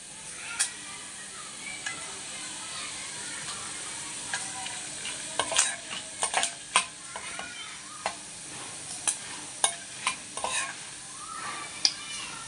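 Dried red chillies fry in oil with turmeric, a steady broadband sizzle broken by scattered sharp clinks and scrapes of a spoon stirring against the pan, moderately loud and close, no voices.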